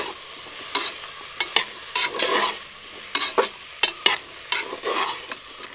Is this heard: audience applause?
no